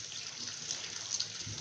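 Salted bitter gourd rinsed under a running kitchen tap, a steady broadband rush of water splashing over the vegetables in a perforated basket, close and continuous, with a brief heavier splash near the end.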